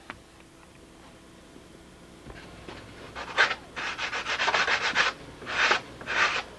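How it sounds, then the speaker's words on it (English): High spots being ground away by hand, a quiet start followed by repeated close, rasping back-and-forth strokes that come in bursts, with no voices. "Those are the high spots. Just grind them away."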